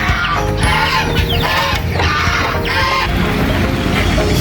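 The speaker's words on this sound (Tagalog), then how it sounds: "So ito papakain ko sa buong bibi at gansa." A noisy flock of ducks and geese being fed, honking and quacking continuously, close by and overlapping, with scattered clatter in the background.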